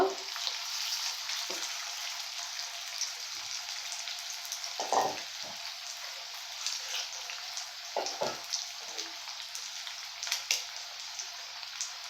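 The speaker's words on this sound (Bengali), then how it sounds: "প্রত্যেকটা খুব সুন্দর করে আমি ভেজে নেব" Chicken pieces frying in oil for chilli chicken with capsicum, a soft, steady crackling sizzle broken by occasional sharper pops and scrapes from turning the pieces.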